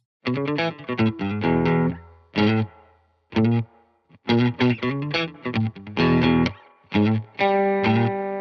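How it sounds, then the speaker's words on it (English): Electric guitar playing short chords and notes with a swelling, echoing vintage spring reverb tail from a spring reverb built into the amp, loud and close, no talking. "It's also a very vintage sounding effect, like a spring reverb that's built into the amp."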